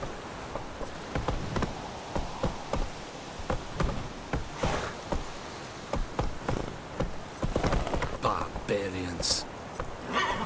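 Roach the horse trots in The Witcher 3, hooves clip-clopping in a quick steady rhythm with creaks and clatter, while a voice talks intermittently over the game sound.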